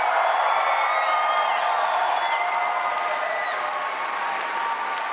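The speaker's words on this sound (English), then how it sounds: "huge round of applause" A large live audience at a Star Wars fan convention stage applauds steadily for about five seconds, sustained clapping mixed with scattered cheers and whoops, loud and even throughout.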